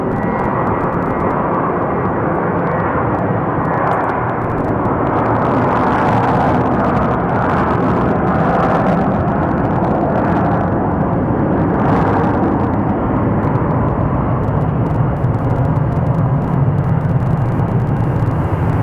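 A steady, loud jet roar from an Alaska Airlines airliner, flight 739 to Seattle, at Phoenix Sky Harbor Airport, sustained broadband rumble throughout without speech.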